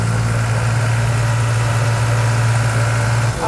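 A New Holland 3600-2 tractor engine runs loud and close with a steady low drone and constant vibration, holding an even pace throughout with no speech over it.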